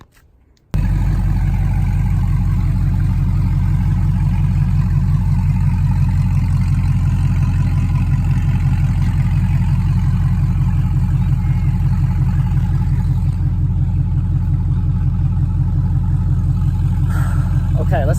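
An MG car engine fires up and settles into a steady, loud idle that runs continuously for well over fifteen seconds, heard close with a faint rattle near the end.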